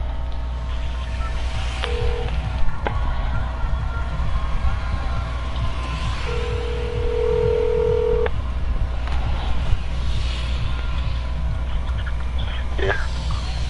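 Telephone keypad tones sound as a number is dialed on a phone, a few short beeps and one longer tone spaced apart over a steady hum of background noise.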